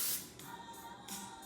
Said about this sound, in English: now let's grease our pie pan. I use pan cooking spray